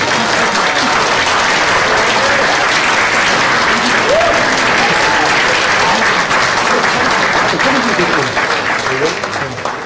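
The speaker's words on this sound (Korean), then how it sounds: "우리 국민의당의 안철수 의원님 박수 좀 함께 해주세요" An audience at a political talk concert applauds to welcome Ahn Cheol-soo with loud, dense, sustained clapping that carries on for the whole stretch, a few voices rising faintly over it.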